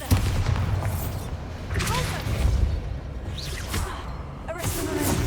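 Bombarda explosion spell cast in Hogwarts Legacy: booming blasts and whooshing bursts recur amid combat noise, with brief voices in the background.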